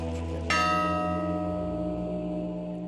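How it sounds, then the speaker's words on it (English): Carillon bells ring in a Russian wooden bell tower. A fresh strike sounds over a resonant tone already hanging in the air, then slowly fades into a long, humming decay. "In the bell tower, they're playing the carillon."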